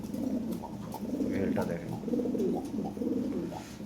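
Lahore pigeons of assorted colours coo softly in a low, rolling murmur that carries on through the clip, with someone speaking over them close by.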